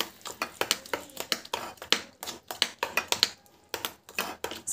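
A spoon clatters against a bowl as chutney is mixed for a pregnancy breakfast dish, a steady run of quick, close clinks and scrapes with no one talking.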